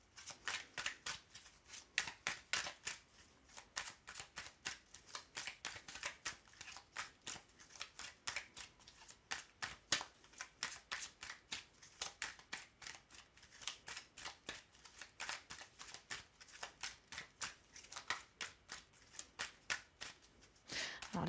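Tarot cards are shuffled and drawn by hand in a quiet room, a long run of soft, rapid riffling and flicking bursts close to the microphone.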